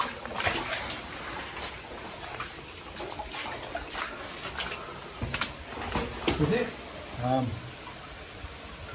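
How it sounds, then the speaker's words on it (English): Running water inside a barn, a steady wash of flowing and trickling water with occasional knocks and brief voices over it. "I can just hear loads of water"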